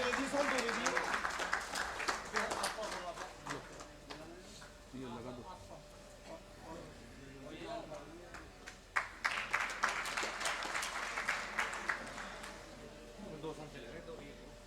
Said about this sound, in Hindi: तालियों से इस्तकबाल करते रहिए, तालियों में कंजूसी ना हो